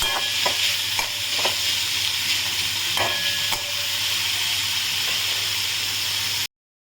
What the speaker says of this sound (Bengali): এর মধ্যে আমি পেঁয়াজটাকে দিয়ে দিলাম। তার সঙ্গে সঙ্গে আমি আলুটাকেও দিয়ে দেবো